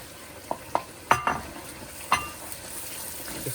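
A spoon clinks against a kadai as yogurt is stirred into sizzling masala chicken, a few sharp metallic taps over a soft, steady frying hiss.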